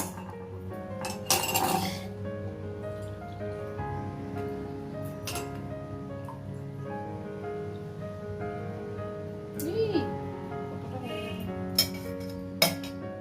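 A spoon clinks against a glass while stirring to dissolve a drink, with scattered sharp taps and rattles over a steady room hum, close and with no talk.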